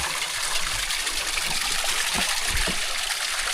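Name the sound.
water flowing from sprinkler hose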